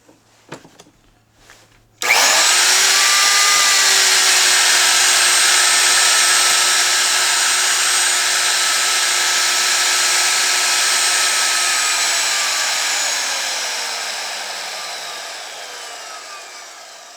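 Milwaukee 5616-20 2¼ horsepower router switching on with a sudden loud high-pitched whine, running steadily close by for about ten seconds, then gradually dropping in pitch and volume as its speed dial is turned down.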